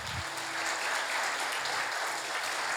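Church congregation clapping together in a sustained, dense burst of applause that fills the hall at an even level from start to finish.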